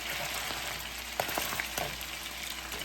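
Chicken patties fry in a skillet with a steady, close hiss of sizzling oil and a few soft pops and crackles scattered through it.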